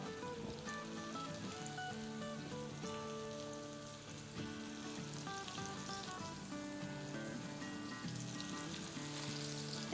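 Eggplant cutlets sizzle and fry in a pan with oil, a steady dense crackle that runs at even loudness throughout, close and without talk.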